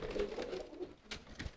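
Racing pigeon giving short throaty courtship coos, faint and close, a few soft rolling notes over quiet background.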